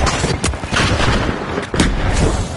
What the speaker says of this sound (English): Frag grenade sent. Sending a frag.